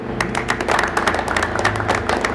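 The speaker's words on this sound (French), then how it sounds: "Applaudissez pour elle." A church congregation claps at a Pentecostal anniversary celebration, steady dense applause with sharp individual claps over a low sustained hum of music or singing, close and continuous throughout.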